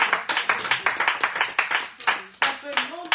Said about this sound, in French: Acclamons pour la présence de Myriam.